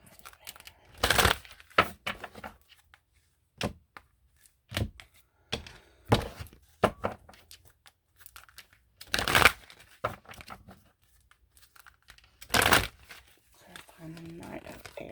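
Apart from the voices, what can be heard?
shuffling tarot cards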